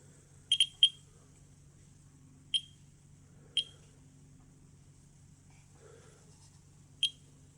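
A Terra MKS-05 Geiger counter dosimeter gives sharp, sparse clicks at irregular intervals, a quick cluster of three followed by scattered single ticks, crisp but quiet against a faint low hum.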